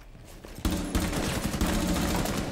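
Rapid gunfire in the tactical shooter Rainbow Six Siege, a loud burst of automatic shots that starts abruptly and continues as a dense, steady stream of reports filling the clip.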